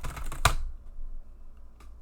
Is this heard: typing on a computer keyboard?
yes